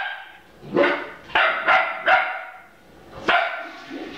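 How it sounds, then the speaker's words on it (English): A dog barks repeatedly at another dog, about five sharp, loud barks in an uneven rhythm, the middle three coming in quick succession, close by with no talk. "she's barking at Wiko"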